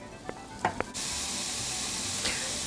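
Frozen corn going into a hot pan of Cajun shrimp and peppers: a few light knocks, then a sudden loud sizzle that stays steady and close to the end.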